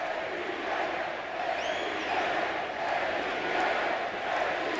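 A wrestling arena crowd at a WWE Velocity match with Bradshaw and Farouk keeps up a steady, distant roar of cheering and chatter throughout.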